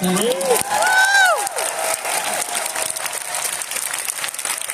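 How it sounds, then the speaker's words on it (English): A panel audience at a Hobbits reunion Pictionary session applauds loudly and steadily, with a few whoops and raised voices rising over the clapping in the first moments before it settles into an even roar. "So give yourselves a round of applause for that one."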